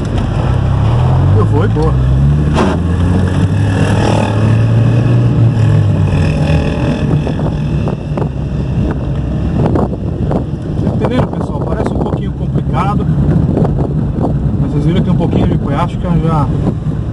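A car with a broken clutch cable is driven without the clutch and shifted up through the gears, its engine droning steadily under heavy wind rumble while someone talks briefly over it.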